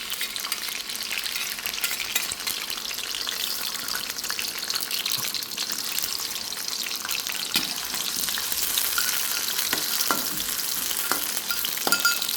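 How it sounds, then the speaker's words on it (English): Shallots deep-fry in a wok of hot oil, giving a steady crackling sizzle with occasional sharper pops. It is close and moderately loud, and no voices are heard. "For I can deep fry the shallot until more crispy"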